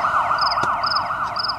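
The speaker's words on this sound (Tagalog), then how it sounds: "Serena ti mobil dagiti pulis" Loud, close police car siren cycling through smooth rising and falling wails, with a brief sharp knock partway through and no one talking.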